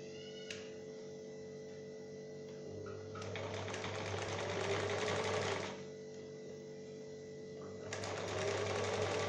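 A sewing machine runs a zigzag seam along the shoulders of a summer bedaya dress, with two steady motor-driven stitching bursts over a faint background hum, close and clear.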